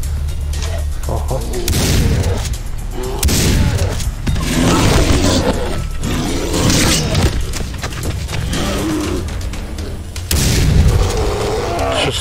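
Repeated sharp gunshot blasts and booms in Far Cry 3 crack out in bursts, loud and punchy, with background game effects between the shots, shooting a bear.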